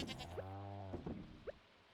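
A farm goat in Stardew Valley bleats once, a clear, drawn-out wavering call up close, followed by short quieter chirps and game sounds.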